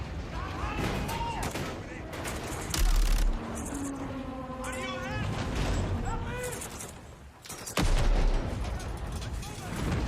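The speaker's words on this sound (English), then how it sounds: "Let's have ourselves a gunfight." A video game gunfight on an oil rig with dense rapid gunfire and heavy bursts. Shots are loud and close, with whizzing effects and voices shouting in the mix.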